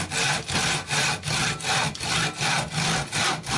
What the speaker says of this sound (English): So just do nice, long, straight, even strokes, letting the saw find its way through the timber.